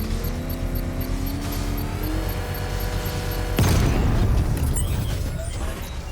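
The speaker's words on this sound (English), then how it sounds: "I can use the power winch to trigger a controlled explosion" A controlled explosion set off with the power winch in Batman Arkham Knight lands as a sudden deep boom partway through, rumbling over a constant loud bed of game engine and ambient noise.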